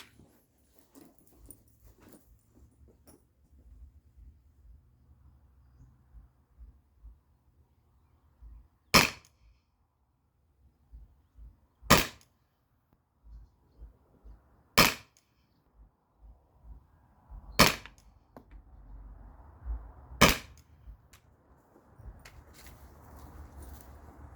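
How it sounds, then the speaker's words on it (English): Five sharp, loud launcher shots of T4E rubber rounds from a less-lethal launcher, spaced about three seconds apart, each a crisp crack standing out over quiet background noise. "So I'm going to go stand back there and start firing"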